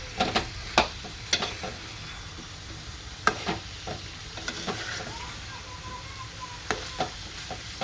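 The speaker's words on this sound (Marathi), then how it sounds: "हे चांगलं परतून घेऊया" Dried fish curry masala with brinjal sautéing in a pan, a constant sizzle punctuated by frequent crisp scrapes and knocks of a spoon stirring against the pan, near and clear with no talking.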